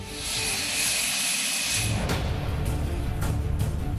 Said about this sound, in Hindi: प्रधानमंत्री मोदी के लिए अमेरिका में तैयार होकर एयरफोर्स वन के जैसा विमान आज भारत पहुंच गया है।